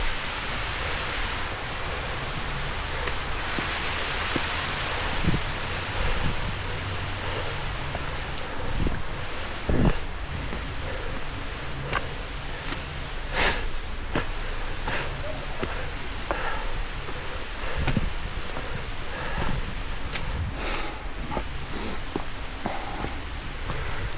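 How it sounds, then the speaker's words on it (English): A river and waterfall right beside the Grouse Grind trail give a loud, steady, close-up rush of water that carries on unbroken throughout. "You can hear the river, the waterfall right beside me."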